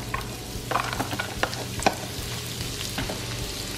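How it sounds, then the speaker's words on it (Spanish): Carrot frying in a pan with a little added oil and sesame oil, a steady close sizzle with a few scattered spatula clinks and stirs, no one talking. "Aquí ya pusimos poquito más aceite, le vamos a poner poquito del de ajonjolí. Y vamos a freír nuestra zanahoria."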